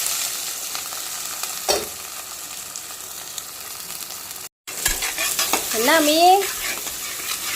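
Onions and green chillies hit hot oil with cumin and chana dal, giving a steady sizzle and stirring scrapes, a brief pause, then louder frying with clattering utensil sounds as a short spoken phrase passes early.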